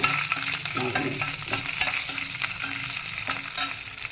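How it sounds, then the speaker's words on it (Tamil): Urad dal and green chillies roast in a pan, with a continuous hiss and crackle broken by repeated scraping stirs, close up and moderately quiet. "இது ரெண்டையும் சேர்த்து நல்லா வறுத்துக்கலாம்."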